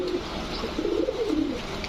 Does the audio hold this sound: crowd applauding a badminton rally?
no